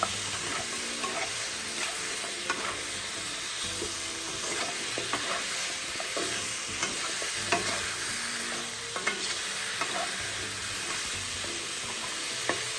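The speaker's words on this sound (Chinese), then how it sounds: "2大匙生抽，再来1小匙老抽， 翻拌炒均匀，猪脚会变得更加红亮油润" Pig trotters stir-fried in a wok with light and dark soy sauce, a continuous loud sizzle under frequent clinks and scrapes of the spatula as the pieces are tossed, close with no talk.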